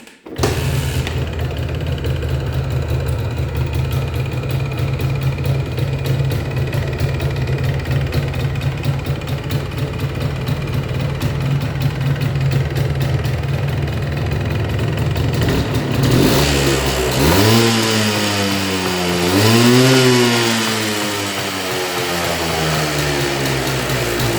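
An MZ ETZ 250 motorcycle engine idles steadily with a loud two-stroke rattle, then is revved up and down in several sweeping surges near the end.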